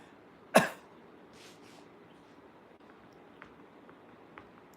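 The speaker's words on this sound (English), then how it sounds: "the old hacker's cough" One sharp, loud hacking smoker's cough after smoking a cigar, close and sudden, followed by a few seconds of quiet room noise with faint small knocks.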